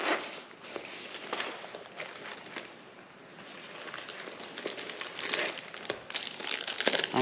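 A radar detector's small bag being handled and opened: close crinkling and rustling of plastic in uneven bursts, with shuffling handling noises and no talking.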